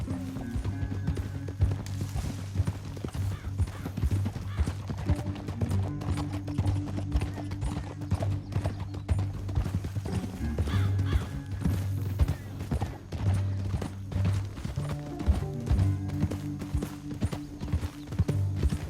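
Horse hooves clop steadily and close at a gallop in the Red Dead Redemption 2 video game, a continuous driving rhythm under a low, sustained game backdrop with no talk.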